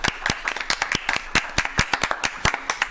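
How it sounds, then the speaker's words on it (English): Applause at a community recreation commission meeting: a small group clapping, with individual sharp claps clearly distinct in a loose, uneven rhythm, close and moderately loud. "And Walt, I think we just all want to give you a round of applause, man."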